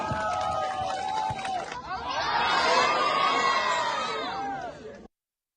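A crowd cheers and whoops at the outdoor opening of a basketball court after a ceremonial ball throw-in. Loud, sustained shouting rises and swells, with children's voices prominent, then cuts off abruptly.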